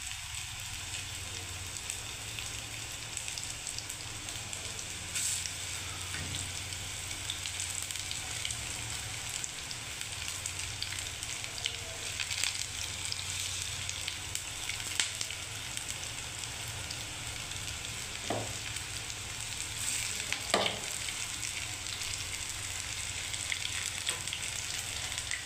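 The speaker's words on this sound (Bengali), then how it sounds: "দেখুন এরকম করে আমি ভেজে নেবো সব কোপ্তাগুলো।" Raw banana koftas fry in oil in a kadai with a continuous crackling sizzle that stays even and close throughout. A few faint clicks stand out briefly, and no one speaks.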